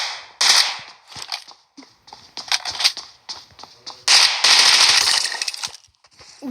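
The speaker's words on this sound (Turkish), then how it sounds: "Uzi. Yaxın məsafənin canavarı." Uzi submachine gun fired in a video game, loud rapid bursts of automatic fire in several short volleys and one longer burst, separated by brief pauses, with no talking.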